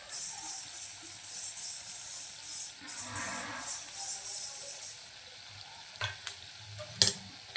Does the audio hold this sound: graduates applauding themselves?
no